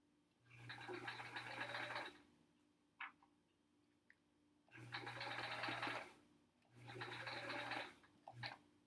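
A sewing machine stitches through quilt seams in three steady, buzzing bursts of a second or more each, close and clear, separated by quiet pauses with small clicks and handling sounds.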